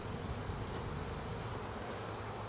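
Honey bees buzz in a dense, continuous hum around a nuc box, many insects at once, close and steady with no pauses or voices.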